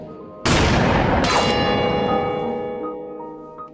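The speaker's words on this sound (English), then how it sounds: "and the bell rings" A large bell rung by pulling down a rope gives two loud, sharp strikes close together, then a long ringing decay with sustained overtones that fades slowly with no talk over it.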